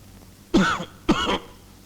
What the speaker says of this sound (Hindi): खांसी की दवा, खांसी हो गई है।